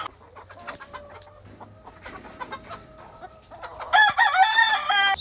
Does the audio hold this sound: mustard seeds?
no